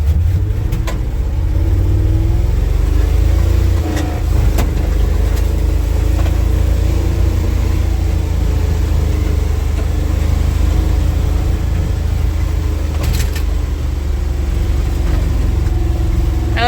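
An old Flatfender Jeep engine runs steadily while driving, a loud, rough, rattling drone with a strong low rumble and slight rises in revs that continue without a break.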